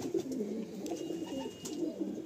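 Several pigeons in a large loft coo in soft, overlapping throaty rolls, close and continuous with no talking.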